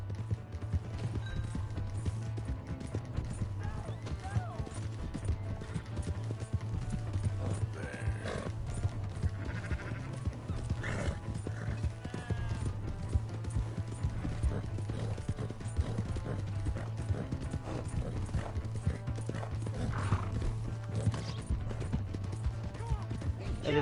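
Horse galloping in Red Dead Redemption 2, a steady rhythmic clip-clop of hooves that runs throughout with an occasional whinny, under intermittent talk and game sounds.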